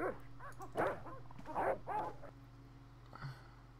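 Dogs barking in the Broken Sword adventure game, a few separate bursts of barks and yips spread over a few seconds, moderately loud over a low steady hum, with a faint short sound near the end.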